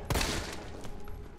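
Gunfire in the Resident Evil 3 Remake game on PS4 Pro, a sharp close shot near the start followed by a fading ring and a couple of fainter bursts.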